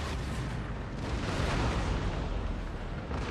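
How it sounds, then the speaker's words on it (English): Ship cannons fire a broadside in the Napoleon: Total War video game, a dense rolling rumble of blasts that stays loud and continuous with no voices. "See if we can get another broadside in before they fire themselves."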